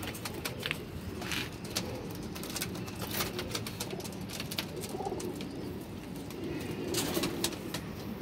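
Pigeons, adults and young birds in a loft setup, coo steadily and continuously up close, with soft chirps and occasional wing rustles in the background and no talking.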